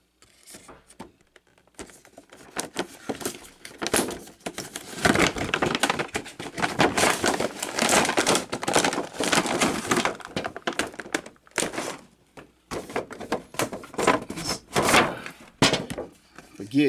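A McFarlane Steppenwolf mega figure's packaging is pried open and the sealed card pulled out, giving near, loud crackling, snapping plastic and cardboard bursts that run almost continuously with a few brief pauses.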